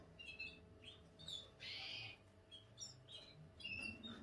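A pigeon being handled gives soft, high chirps and squeaks in short scattered bursts, fairly close and faint against a quiet background with no speech.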